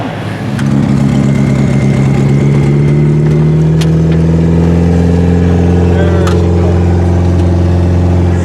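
A repaired off-road vehicle's engine, fixed after a blown spark fuse and fuel pump wiring, runs loud and close with a steady droning hum that rises slightly, while people talk nearby.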